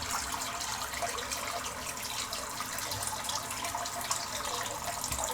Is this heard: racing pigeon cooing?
no